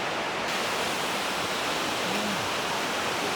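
Baker's Falls in Horton Plains, Sri Lanka, a small waterfall running over black rock, heard as a steady, loud, unbroken rush of falling water close by.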